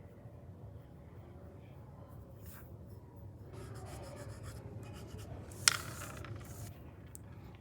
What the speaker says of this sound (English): I just keep blending with my finger